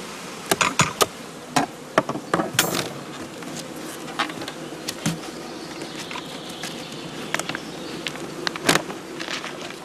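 A honeybee colony buzzing steadily in a hive with only the small upper entrance hole open, the hum continuous throughout with scattered close, sharp bursts from individual bees.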